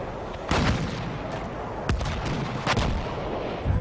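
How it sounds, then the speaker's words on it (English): Mortar and artillery fire in the Battlefield 1 video game, several heavy booming blasts over a continuous rumble of distant battle, loud and close. "The mortars, the AT rockets, the gas, the flares, the smoke, everything."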